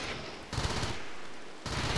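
Gunfire in the colony game RimWorld: a couple of short bursts of rapid crackling shots, loud and close, separated by a brief lull.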